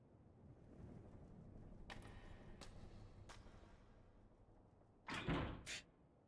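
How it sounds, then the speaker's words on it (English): Something slams against a door in the horror game Spirit Hunter: Death Mark, a loud heavy thud followed by a second knock after faint crackling rain and several sharp clicks. "I hear a noise like something slammed against the door."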